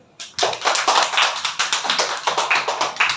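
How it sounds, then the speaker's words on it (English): A class of young students claps for a classmate, a dense close burst of many hands clapping steadily and fairly loud for about three seconds with no talk. "Clap for him."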